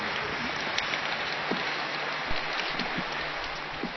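Steady rain falls outdoors at a school, a dense continuous hiss of drops on surfaces with a few brief louder patters, no talking.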